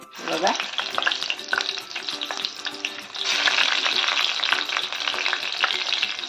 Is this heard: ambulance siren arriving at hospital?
no